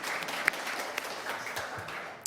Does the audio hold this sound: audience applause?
yes